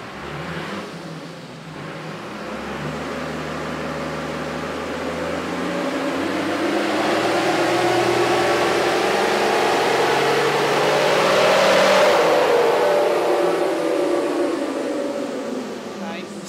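Nissan TD42 diesel engine under load during a power run, close and loud, its pitch climbing steadily to a peak and then easing back, with a faint voice near the start.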